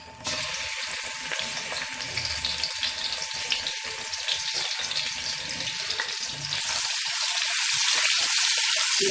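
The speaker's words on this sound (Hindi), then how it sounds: "ये घी हमारा गर्म हो रहा है।" Ghee heats in a pan for a dhaba-style dal palak and sizzles with a steady, close frying hiss that grows slightly stronger toward the end.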